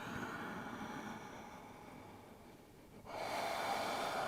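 Steady exhaling breath during a yoga session, a soft, airy rush of breath close to the mic, with the sound swelling louder toward the end and no talking.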